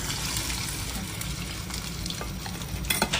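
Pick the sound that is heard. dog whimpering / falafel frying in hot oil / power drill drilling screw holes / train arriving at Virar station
falafel frying in hot oil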